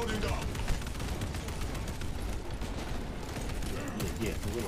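Sustained rapid gunfire fills a chaotic firefight in the game Space Marine 2, a dense continuous barrage of shots and blasts at steady loudness throughout.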